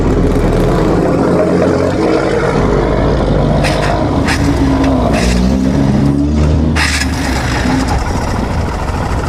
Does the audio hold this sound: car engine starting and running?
yes